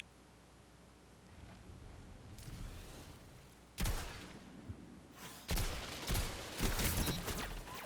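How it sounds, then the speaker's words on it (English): Gunfire in a Destiny Trials match, heard as two sudden loud bursts of shots over a low rumbling game backdrop, the second burst followed by more crackling fire. "Okay, nailed my headshots."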